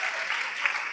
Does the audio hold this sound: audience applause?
yes